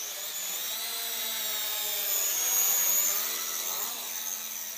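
An Eachine E33W mini drone flies with its small motors giving a steady high-pitched whine. The whine swells and shifts in pitch as the drone moves, peaking near the middle, and no one speaks over it.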